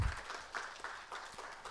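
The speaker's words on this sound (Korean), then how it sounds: "오명환 박사님께 다시 한번 큰 박수 부탁드립니다" Applause at a KIST alumni lecture event honoring a flat-panel display pioneer, sounding as a faint, thin patter of clapping from a modest audience, steady throughout with no voices.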